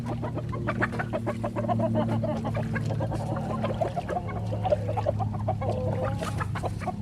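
Several chickens cluck steadily close by in a busy, continuous flock chatter, with short calls overlapping for the whole stretch and no talking.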